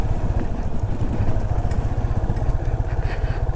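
A Yamaha Fazer 250 motorcycle engine-brakes down a steep slope, its single-cylinder engine making a low, rapid, throbbing pulse with some mechanical clatter, close and steady throughout.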